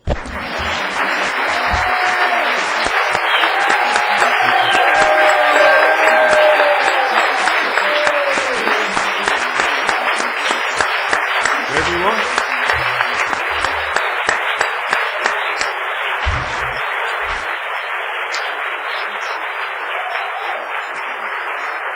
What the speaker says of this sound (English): You guys want to give him a round of applause?